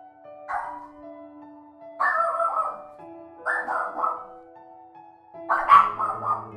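Dogs barking in the video game Undertale: four separate bark bursts about a second apart over a steady low game tone, fairly close and clear, with no talking.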